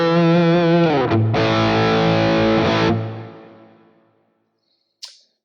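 A high-gain electric guitar lead tone runs through a Quad Cortex with compression and drive: a sustained distorted chord, a brief break and restrike, then a long fade to silence and a short sharp click at the end.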